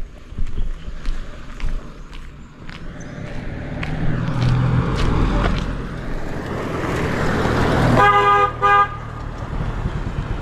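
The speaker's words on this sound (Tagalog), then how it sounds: "yung mga sasakyan bumubusi na sila dahil kurbada" Car horns honk repeatedly in short toots along a curved one-way road, mixed with passing vehicle noise and engine rumble, with a sustained louder horn blast near the end.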